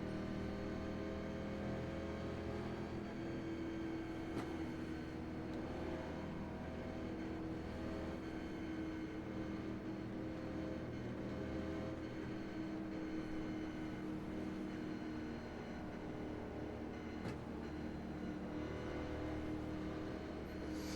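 Engines of 1987 NASCAR stock cars at a race start on the Charlotte oval in iRacing, a steady, dense roar of many cars running together at constant loudness throughout, with no talking.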